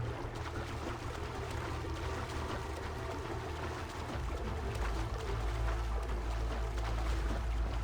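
A boat glides over water in the video game Assassin's Creed Origins, with a continuous low rushing wash and faint splashing, steady and moderately quiet throughout with no talking.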